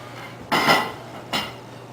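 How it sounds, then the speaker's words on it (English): Dishes in a home kitchen being shifted: two brief clattering clinks about a second apart, the first slightly longer and louder, nearby with quiet between and no talking. "let me move my dishes"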